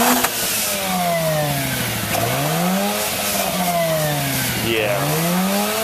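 A blue Mazda RX8 on its stock exhaust revs repeatedly from a warm idle, its rotary note sweeping up and falling back in rising and falling harmonic arcs, loud and close, with a steady engine drone between the revs.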